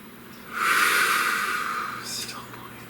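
A single slow, deep breath drawn in close and quiet, a soft airy rush that swells and then fades, followed by a brief lighter exhale.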